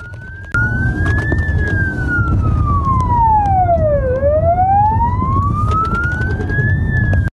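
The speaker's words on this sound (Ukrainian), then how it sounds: "карета екстреної швидкої попереду, патрульна поліцейська машина за нею, вімкнені сигнальні сирени та маячки" Loud emergency sirens from an ambulance leading and a police patrol car behind sweep slowly down and back up in a long wail over a steady roar of passing traffic in Uzhhorod.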